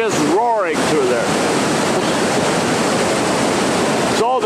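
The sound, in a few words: waterfall roaring with high water flow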